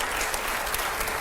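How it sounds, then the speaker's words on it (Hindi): An audience applauds at a political talk event, a dense steady wash of clapping hands heard at moderate level without speech over it. "चलिए अब तालियों की आवाज थोड़ी कम आ रही है मेरे।"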